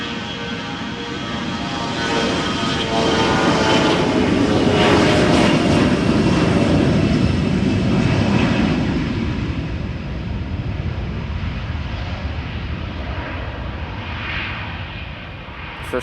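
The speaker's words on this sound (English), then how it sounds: "this beautiful liveried Nordica SAS airplane, operated by X-Fly, is going to Copenhagen, CRJ 900." A Nordica-liveried SAS CRJ 900 regional jet, operated by X-Fly, roars at Amsterdam Schiphol Airport, its engines a loud, sustained broadband rumble that swells over the first seconds and then eases slightly, with no voices.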